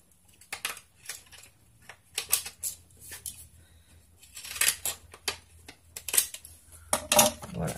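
Scissors snip through a paper card being made into a thank-you card in a run of close, crisp cuts with uneven rhythm and brief pauses, the later snips louder and denser.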